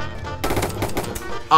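Rapid automatic gunfire from a Roblox shooting game at a grocery store, a burst of loud, close shots with a brief pause, then a sharper blast at the end.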